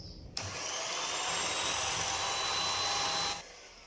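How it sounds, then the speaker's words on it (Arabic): An electric hand mixer beats eggs for a simple lemon cake, starting abruptly, holding a steady whirring motor drone with a faint whine for about three seconds, then switching off; close, with no talking. "من بعد ما طربتهم لمده ديال 1 دقيقه تقريبا"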